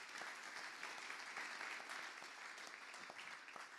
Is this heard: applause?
yes